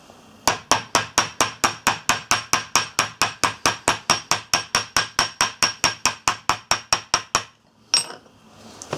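A hammer taps down leather stitching in a long, even run of about thirty sharp, loud, close strikes at a steady pace. The taps stop abruptly, followed by one last knock.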